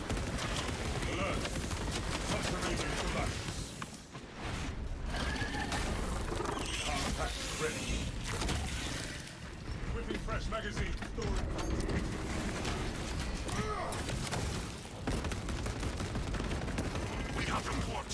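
Heavy bolt rifle fire in the Space Marine video game, dense sustained bursts of loud gunfire that run almost continuously with short gaps, mixed with game voices and battle noise.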